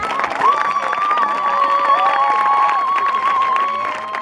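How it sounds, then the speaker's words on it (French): A church congregation cheers and applauds in a loud, sustained roar. A high-pitched voice or whistle rides on top, and the noise holds steady for about four seconds before easing slightly. "Acclame bien le Seigneur."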